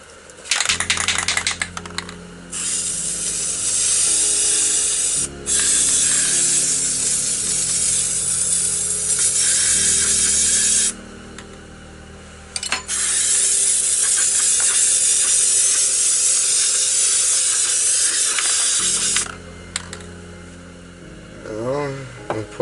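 Spray paint hissing from a can onto a desert landscape painting, long loud bursts of spray broken by short pauses, with faint clicks and handling noises between bursts.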